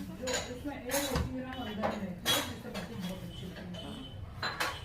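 Bati dough is mixed by hand in a bowl, making soft repeated clinks and scraping knocks against the dish at an uneven rhythm, fairly faint, with a few quiet background voices.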